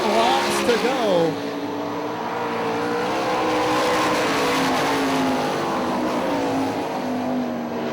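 Sprint cars race on the dirt oval at Hartford Speedway Park, their engines roaring in a loud, continuous drone that pitches up and down as the pack accelerates through the turns, with a race commentator talking over the noise throughout.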